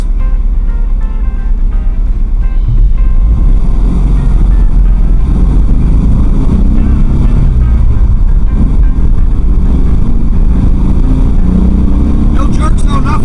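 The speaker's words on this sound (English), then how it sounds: "It's idling nice." A 1971 VW bus engine idling after a tune-up and new carburetor, a loud steady low rumble up close with someone talking over it.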